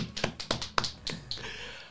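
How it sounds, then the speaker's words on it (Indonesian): A handful of sharp, scattered claps from a small studio audience on a podcast set, six or so uneven hits over two seconds, close and fairly quiet, with no talk. "kita tepuk tangan dulu ya yang ada di studio buat Abang Pram ini"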